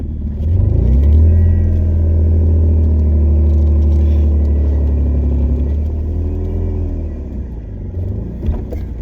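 A truck engine drones loudly and steadily while the truck drives dragging a load behind it, a deep rumble that eases off toward the end.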